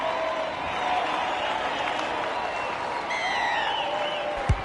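Stadium crowd noise in the rugby league video game Rugby League 26, a steady cheering roar that holds throughout, with whistle-like tones rising briefly near the end and a sharp thump at the close.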